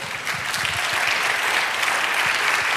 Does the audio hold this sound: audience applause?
yes